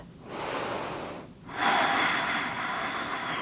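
A long, steady inhale followed by a louder, fuller exhale during a power yoga pose, both close and clear with no talk over them.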